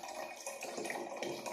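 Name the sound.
wine being poured from a bottle into a demijohn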